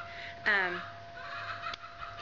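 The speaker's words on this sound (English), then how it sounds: "My chickens are just really making noise." Backyard chickens make a brief, loud squawking burst near the start and then fade into faint clucking, set against a steady background hum in a household setting.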